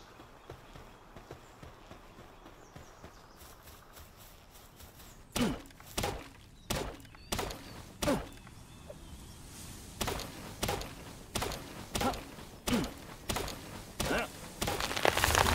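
In the video game Palworld, wood is chopped in a series of regular, evenly spaced thunking hits, about a dozen of them, over quiet background game sound.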